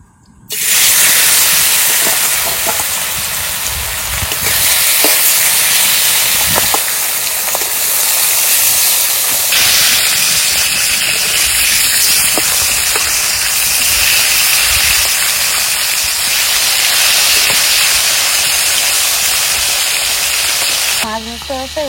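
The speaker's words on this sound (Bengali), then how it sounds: "মাছ ভাজার জন্য এবার তেল দিয়ে দেবো।" Fish frying in hot oil gives a loud, steady sizzle and hiss with steamy crackle that runs almost unbroken for about twenty seconds, close to the pan, with no talk over it.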